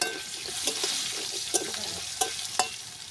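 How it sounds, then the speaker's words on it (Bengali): Potato pieces fry in oil in a pan with a little turmeric, a steady crackling sizzle broken by several sharp stirring knocks of the spatula against the pan, with no talk. "আমি আলুটা লাল লাল করে ভেজে নিয়েছি"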